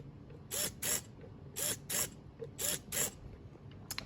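A small servo arm on a homemade dart launcher whirs in short bursts, paired pulses repeating three times and then a final brief one, close and mechanical with no talk.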